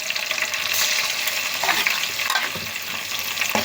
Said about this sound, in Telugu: అల్లం పేస్ట్ చక్కగా వేయగానే మనము ఈ రీతిగా పచ్చివాసన పోయేంత వరకు చక్కగా ఫ్రై చేసుకుందాం